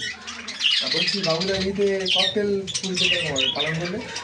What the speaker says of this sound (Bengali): পাখিটা হলো প্যাসলেস ককাটেল